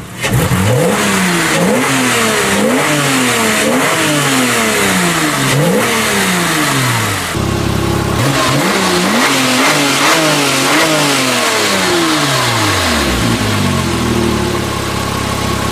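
Loud, continuous engine note heard from inside an unmodified Porsche, revving up and down in repeated waves as it accelerates through gears.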